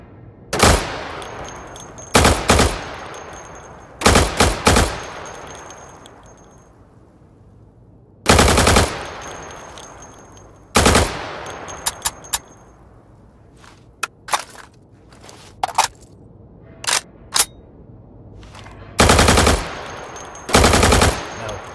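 Gunfire from a primary weapon in the Insurgency tactical shooter, shooting at training targets through plywood: loud, sharp bursts and single shots scattered across the stretch with gaps between, some rapid automatic strings, near and crisp.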